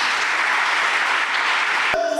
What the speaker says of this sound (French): J'aimerais que vous les applaudissiez.